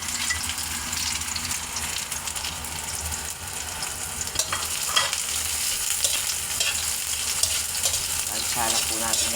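Garlic and onion sauté in a pan with ginger for a seafood caldereta, a steady moderate sizzle with frequent stirring scrapes and clatter throughout.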